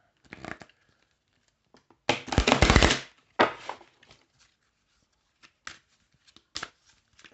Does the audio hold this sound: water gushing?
no